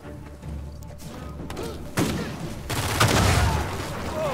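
Gunfire in the Uncharted 4: A Thief's End video game, a dense rattle of shots mixed with thuds and impacts, loud and continuous over in-game noise.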